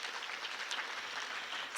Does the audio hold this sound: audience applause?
yes